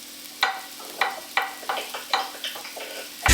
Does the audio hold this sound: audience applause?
no